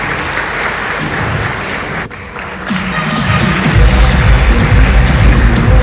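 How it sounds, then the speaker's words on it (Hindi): A studio audience on a Kaun Banega Crorepati TV quiz show bursts into loud, sustained clapping that swells and grows denser toward the end, with no voices over it. "एक बार जोरदार ताली होनी चाहिए देवी जी के लिए"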